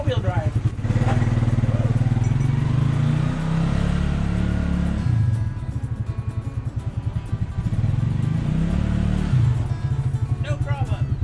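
Suzuki King Quad ATV engine running steadily while driving through snow in four-wheel drive, a continuous loud rumble with two surges of revving and a brief lull between, heard close up with no talk over it.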